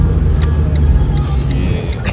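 Wind roars through a car's open windows while driving, a loud, steady low rumble and rush that holds throughout with faint higher hiss above it.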